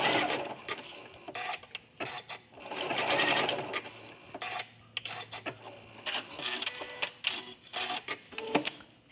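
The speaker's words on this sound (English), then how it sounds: "a couple of stitches forward, and then back stitch a couple of stitches over those original stitches" A home sewing machine runs in short bursts of fast stitching, stopping and reversing to sew tacking stitches forward and back over the same spot, close by with brief pauses between runs.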